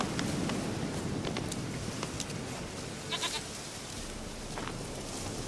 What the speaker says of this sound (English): Shut up, goat.